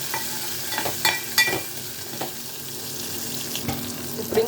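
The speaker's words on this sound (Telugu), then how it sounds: "ఇప్పుడు దీంట్లో కొంచెం పసుపు వేసి బాగా కలిపేసుకోవాలి." Turmeric stirred into red chilli chutney frying in a pan: a spoon scrapes and taps several times over a soft, steady sizzle, with no talking.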